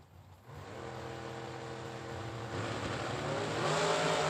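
A Freeland, Michigan-based dragster launches down the drag strip at a Super Pro bracket race, its engine a sustained droning roar that builds steadily in pitch and loudness, heard from a distance without voices.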